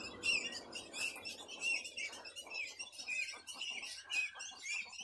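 Heron chicks at a nesting colony in their natural habitat give many overlapping shrill, squawking calls in irregular bursts, moderately close and continuous throughout.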